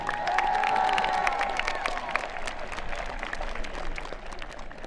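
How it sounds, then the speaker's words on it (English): A graduation audience applauds auto tech students at a commencement ceremony, steady dense clapping with some cheering and crowd noise, sustained and fairly distant throughout. "a nice round of applause for our auto tech students"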